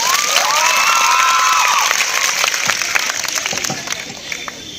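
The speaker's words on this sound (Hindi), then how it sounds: "एक जोरदार तालियां सर के लिए" At a girls' high school farewell and honour ceremony, a crowd of students bursts into loud applause and cheering for a teacher, dense clapping with shouts and whistles that slowly eases off.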